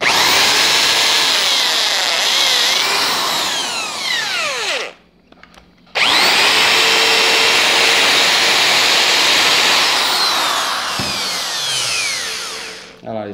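A power drill bores through the plastic of a GoPro Hero 4 Black waterproof housing, a loud, steady, high whine that cuts out briefly partway through and then starts again at full strength.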